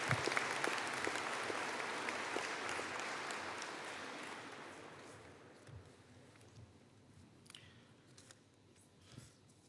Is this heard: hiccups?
no